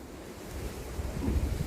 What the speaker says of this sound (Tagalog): naririnig nyo ba yung tunog ng hangin?